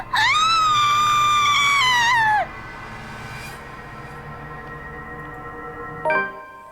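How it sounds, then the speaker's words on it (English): A horrified scream in the video game The Letter, one loud, sustained high-pitched cry that wavers and drops off after a couple of seconds, followed by low ambient hum and a faint tonal sting. "my horrified scream ripples through the air"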